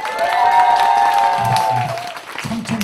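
An audience claps to vote at an outdoor beach concert by a traveling pumba performance troupe, loud sustained applause that fades near the end as a voice begins speaking.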